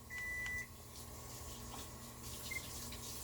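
A 360 camera gives a clear electronic beep as its recording stops, with a second, much shorter beep a couple of seconds later against faint running-water background noise.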